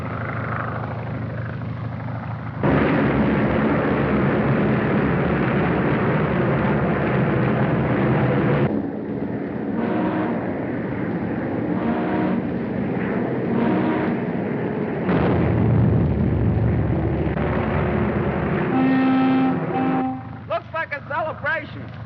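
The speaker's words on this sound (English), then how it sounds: "Listen to the cannons and whistles. That is a salute to this record-breaking flight." Cannons fire and whistles blow as a salute to a record-breaking flight arriving in New York, a dense, loud, sustained roar with booming swells and layered whistle tones, ending in a fluttering whistle burst. Engine drone runs under it all.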